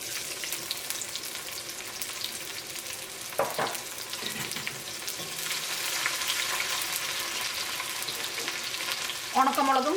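Shallots and urad dal crackle and sizzle steadily in hot coconut oil during tempering for jackfruit thoran, with a brief stirring clatter partway through and a dense, continuous frying hiss.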